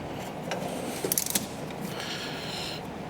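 A quick burst of ratcheting clicks from a wrench turning a Subaru STI spark plug, fairly faint and close, followed by softer mechanical creaks.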